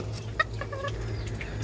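A sick young rooster with coryza giving a few short, soft clucks close by, brief nasal calls over a low steady background hum.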